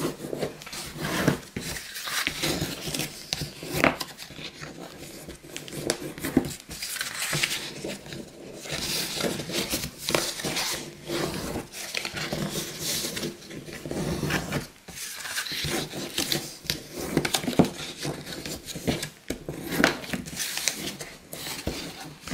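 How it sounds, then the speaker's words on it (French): A bone folder rubs and scrapes steadily along paper folds while crafting a chocolate gift box, giving a continuous dry rasping with short pauses and no talking. "avec le plioir, on va bien marquer tous les plis."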